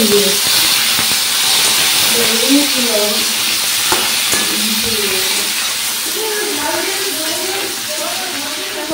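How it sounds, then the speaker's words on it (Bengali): Potatoes fry in a pan for khichuri, giving a continuous loud sizzle and hiss with stirring, while a voice sings or hums over it. "খিচুড়ি ভাজাটা হচ্ছে, এই যে আলু ভাজা বাকি হচ্ছে"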